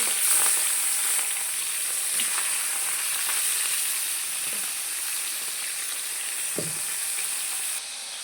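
Cumin and mustard seeds sizzle in hot oil in a wok-style pan, a close, constant crackling hiss with a few light clinks, ending in a slightly quieter stretch.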